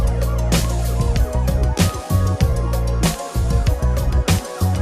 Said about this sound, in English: Yeah, the sirens, yep.